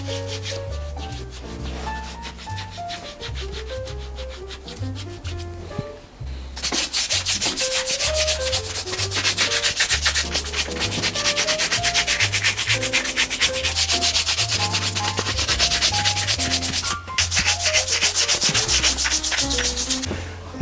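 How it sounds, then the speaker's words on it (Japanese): A white leather shoe is buffed with neutral cream, giving steady brisk rubbing strokes close up, with a rhythmic swishing that grows faster and more continuous partway through. "クリームを入れて磨いていきます。"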